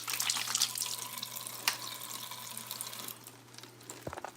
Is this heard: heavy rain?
no